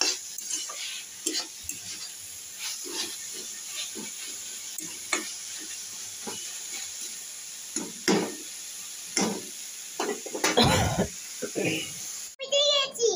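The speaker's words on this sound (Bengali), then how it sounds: "কলমি শাক ভাজা করছি। রসুন আর কাঁচা লঙ্কা ফোড়ন দিয়েছি" Kalmi greens (water spinach) frying in a pan tempered with garlic and green chili, with a steady soft sizzle and occasional stirring and utensil clinks under frequent talk, including a voice, ending in a sharp clatter.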